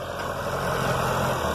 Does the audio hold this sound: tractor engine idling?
yes